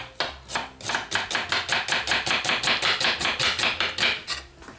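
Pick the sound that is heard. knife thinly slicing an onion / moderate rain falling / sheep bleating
knife thinly slicing an onion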